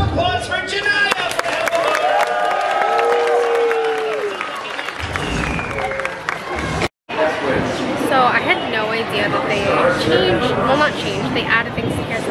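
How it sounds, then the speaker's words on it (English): Audience at the Magic Kingdom applauding and cheering after a lucky-number game, a burst of clapping and crowd noise that mixes with chatter and speech over a long stretch. "A round of applause for Janaya."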